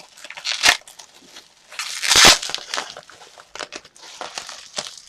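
Glass Tim Holtz Distress re-inker bottles being unwrapped from crinkly paper wrapping, close and loud, with bursts of crumpling and crackling that peak near the middle and then carry on as smaller rustles.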